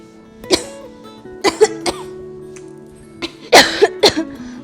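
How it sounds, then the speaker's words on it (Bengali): A person with an ordinary cough coughs several times in separate sharp bursts, some single and some in quick pairs, with quiet pauses in between, close and fairly loud. "নর্মাল কাশি হয়েছিল"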